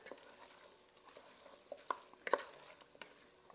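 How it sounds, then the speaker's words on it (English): A spoon gently stirs Italian seasoning and smoked paprika into a pot of vegan zuppa toscana, giving quiet scraping taps and light clicks over a faint sizzling background. "I'm going to just sprinkle that over the top, and I'm going to give this a little stir."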